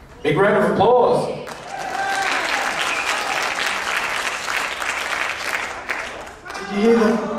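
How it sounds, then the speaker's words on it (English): Audience applause after a live song at a concert finale, a loud steady wash of clapping lasting several seconds, with voices briefly heard at the start and end. "Big round of applause."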